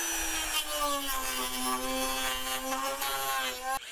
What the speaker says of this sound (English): I think the first thing to do is chop about a half inch off the top just to get rid of all this loose strand.